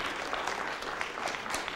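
A church congregation claps hands together in steady, dense applause, moderately loud and continuous throughout, with no voices standing out.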